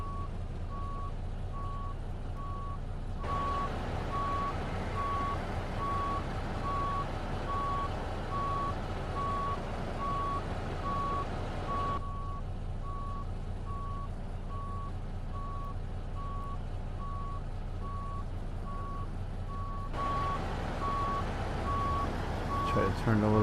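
A tractor-trailer backs up in American Truck Simulator, its steady reversing beeper pulsing on and off over a constant low engine drone, with the beeping dropping out for stretches before resuming.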